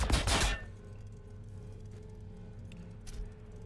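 A short, loud burst of rapid gunfire opens a Warhammer 40000 Battlesector battle between Tau and Necron forces, then fades into a low battlefield hum with one faint later shot.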